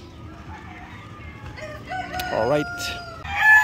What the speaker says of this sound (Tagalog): So ito yung mga manok natin, mga ka-farmers, yung mga barred track natin.